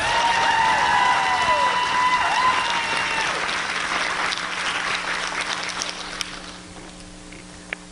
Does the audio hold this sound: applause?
yes